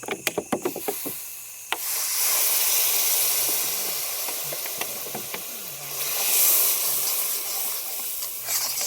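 After a few quick taps, water goes into frying chicken masala for singara filling, setting off a loud rushing hiss and steam sizzle that swells, settles, and flares again near the end.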